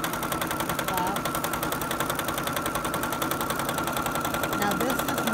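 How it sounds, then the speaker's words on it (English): A home sewing machine stitches across quilt fabric guided by rulers, a steady fast mechanical rattle at an even rhythm running continuously and close. "Now we're going to go ahead and stitch"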